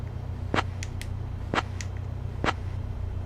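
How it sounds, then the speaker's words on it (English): Three sharp microphone clicks, spaced about a second apart and followed by a few fainter ticks, keying the radio to switch on runway lights in Microsoft Flight Simulator during night flying, over a steady low hum. "But you can click the microphone so it sounds like this."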